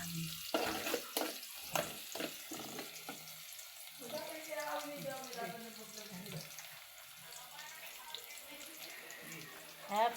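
Ginger, onion and garlic sauté in a pan, with a soft sizzle and stirring scrapes that carry on under a voice.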